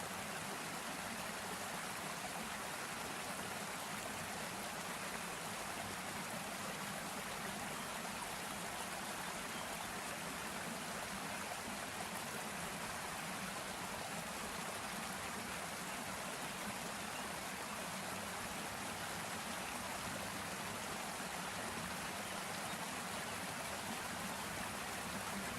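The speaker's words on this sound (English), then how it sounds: "A lovely waterfall sound." Steady, unbroken rush of a waterfall in the fishing video game Fishing Planet, a dense, even roar holding constant with no voices.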